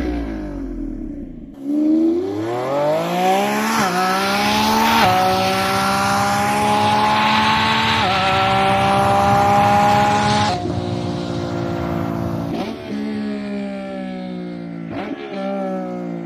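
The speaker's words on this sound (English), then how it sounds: "Now it's time to listen to this breathtaking roar of the V12 aspirated engine coupled with powerful electric" Lamborghini Revuelto's naturally aspirated V12 hybrid engine roars loud and close, climbing through rising revs in several sustained pulls with brief gear-change dips, alone without talk.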